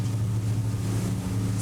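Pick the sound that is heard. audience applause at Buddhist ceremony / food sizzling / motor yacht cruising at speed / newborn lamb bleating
motor yacht cruising at speed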